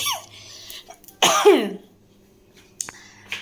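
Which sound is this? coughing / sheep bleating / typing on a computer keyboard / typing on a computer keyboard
coughing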